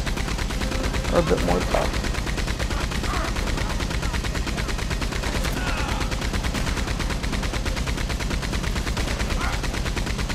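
Maxim machine gun in Red Dead Redemption fires continuously in a rapid, even stream of loud bursts throughout, with someone speaking briefly over the gunfire.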